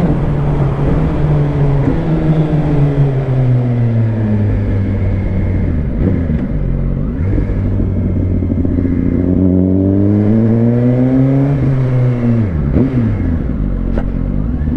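A Suzuki GSX-R 1000 sport motorcycle's engine revs up and down repeatedly, its loud, close exhaust note rising and falling in pitch in several sweeping blips over a steady idle.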